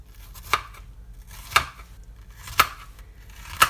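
A kitchen knife chops through onion quarters on a cutting board: four crisp, close cuts land about a second apart, each a sharp knock against a quiet background with no voices.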